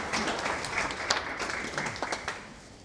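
An audience claps at a live talk event, producing a steady, dense wash of applause with a few sharper individual claps standing out near the end. No voices are heard.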